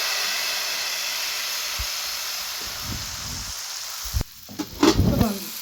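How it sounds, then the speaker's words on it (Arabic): Crepe batter sizzles in a lightly oiled frying pan, a constant close hiss of frying, with a few clinks and scraping sounds from the pan near the end. "بدهن الزيت خفيفه خالص وانزل كده بالعجين بالشكل ده"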